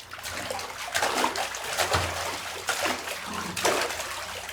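Real water waves surge and wash in broad, noisy swells, several splashing crests rolling through close by in an uneven rhythm, with no voices over them.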